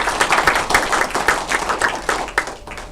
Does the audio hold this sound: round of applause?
yes